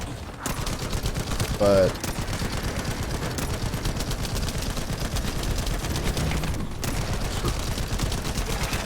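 Shotgun and heavy-weapon fire in a video game, with dense, continuous bursts of gunfire heard loudly throughout and a brief spoken word near the start.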